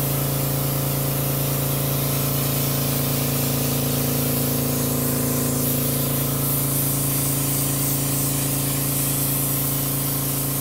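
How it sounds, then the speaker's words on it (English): A paint spray gun, held well back with a wide fan, coats a model Thoroughbred horse. It makes a loud, continuous hiss with a steady hum beneath it and no pauses. "I'm letting that fan really kind of spray out, kind of wide."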